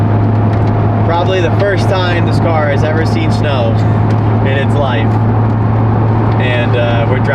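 A Corvette sports car driving through snow on a Montana road, a loud steady engine and tire drone with a low hum, heard from inside the cabin beneath continuous talking.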